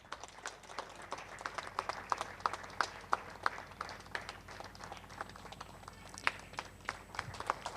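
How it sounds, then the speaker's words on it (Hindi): Steady applause from a seminar audience at a Jaipur restaurant, many hands clapping in a continuous, moderately quiet patter heard from a short distance throughout, with no voices over it. "ताली रुकनी नहीं चाहिए।"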